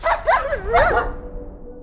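A dog gives a couple of close, whining yips that slide into a whimper, short and loud over a low background hum.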